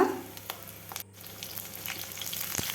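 Garlic, nigella seeds and green chilli frying in mustard oil, a close continuous sizzle with a brief break and a soft stir, no talking.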